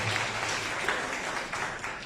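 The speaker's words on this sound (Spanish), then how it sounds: "Recibamos a nuestro invitado con un fuerte aplauso." Audience at a book presentation applauding to welcome a guest speaker, a steady moderate wash of clapping heard at some distance, brief and even without pauses.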